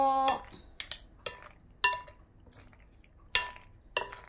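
Chicken macaroni salad being mixed in a bowl with a utensil, giving several sharp clinks and scrapes in an irregular rhythm, close and moderately loud with quiet pauses between strokes.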